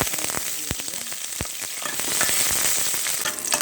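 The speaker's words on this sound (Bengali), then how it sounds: "রসুনটা ভাজা হয়ে গিয়েছে" Garlic and chillies fry in hot mustard oil in a pan, a bright crackling sizzle punctuated by several sharp pops and scraping stir sounds, close up with no talking.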